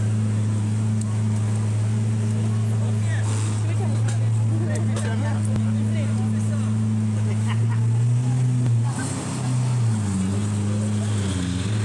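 A car from Qatar with an orange interior drives past with a loud, rumbling engine that stays steady and close, then shifts pitch near the end, while people talk over it.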